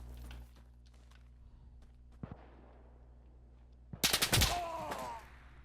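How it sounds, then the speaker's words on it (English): M60 machine gun fire in the video game Insurgency Sandstorm: a single loud burst of rapid shots near the end, preceded by quieter scattered sounds and a low hum. "Where's the M60 fire even coming from?"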